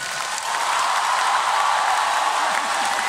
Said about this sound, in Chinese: 如果大家觉得我跳得还不错的话，请以热烈的掌声